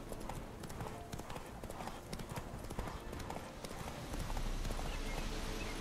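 Roach, Geralt's horse in The Witcher 3: Wild Hunt, gallops with rapid, rhythmic hoofbeats that stay close and loud across the stretch, backed by faint game ambience.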